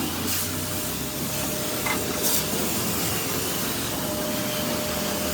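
Vacuum cleaner running steadily inside a Mitsubishi Mirage G4 during a basic car wash, a constant close roar with faint hissing and rubbing bursts over it, no talking.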